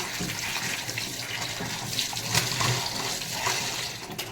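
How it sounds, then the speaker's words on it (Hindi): Tap water runs steadily as a pumpkin is washed by hand in a kitchen, a close, continuous splashing rush with small surges as the vegetable is rubbed under the stream. "तो सब्जी को अच्छे से वॉश कर लेते हैं"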